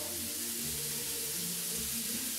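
Bell peppers sizzle in a pan with a steady, close hiss and crackle, while a low hum runs underneath.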